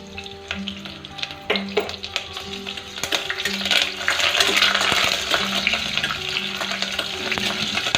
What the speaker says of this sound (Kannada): ಈಗ 2 ಹಸಿಮೆಣಸಿನಕಾಯಿ ಮತ್ತು ಪಲಾವ್ ಎಲೆ ಹಾಕಿ ಸ್ವಲ್ಪ ಫ್ರೈ ಮಾಡ್ತೀನಿ